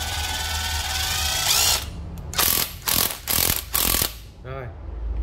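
A Makita EZ6507 cordless drill driver test-run in short bursts, its clutch slipping and ratcheting in about four loud, distinct pulses after a brief opening whir, with a little background talk.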